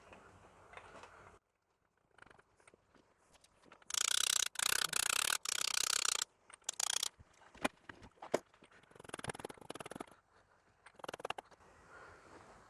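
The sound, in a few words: ratchet with 32mm socket pressing cam seal into place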